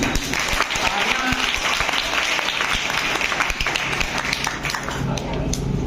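Sustained applause from a crowd at a Teachers' Day honoring ceremony at a school, dense clapping that continues steadily for several seconds.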